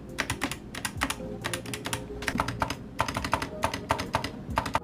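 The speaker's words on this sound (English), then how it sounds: "Instantly transform your keyboard to have that perfect thocky sound with these ceramic keycaps" Steady typing on a keyboard fitted with ceramic keycaps, giving close, crisp clusters of key clacks in quick bursts with brief pauses between them and no voices.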